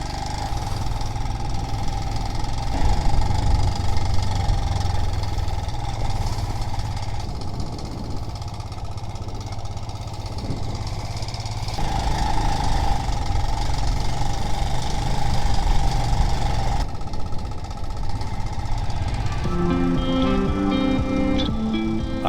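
A motorbike rides along a road on the old Ho Chi Minh Trail through the mountains of Vietnam, its engine droning steadily and close throughout, rising and easing with the throttle, without speech.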